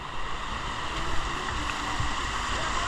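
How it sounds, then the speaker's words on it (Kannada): River water flows steadily during a river crossing on a forest trek near a hidden waterfall, a continuous close rush with no breaks and no voices. "ಇದು 3ನೇದು ನಮ್ಮ ರಿವರ್ ಕ್ರಾಸ್ ಆಗ್ತಾ ಇರೋದು"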